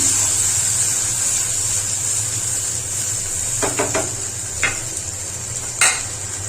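Spice paste of ground ginger, cumin, dried chili, turmeric, salt and coriander frying in a pan, a steady hiss of sizzling with a few sharp stirring scrapes and clinks close by.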